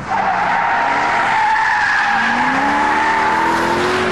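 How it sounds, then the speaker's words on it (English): The supercharged engine of a 2007 Ford Shelby GT500 pulls hard under acceleration, heard from inside the car. A loud, continuous roar climbs steadily in pitch with a whining edge, and no one speaks. "So let's see what the engine's like."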